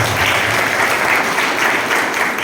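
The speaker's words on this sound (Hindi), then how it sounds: "सबसे पहले तो आप सभी के लिए एक बार हम एक दूसरे के लिए ताली बजाएं।" An audience at a real estate agent career orientation program claps for one another, a loud, even burst of applause that carries through the whole moment without a break.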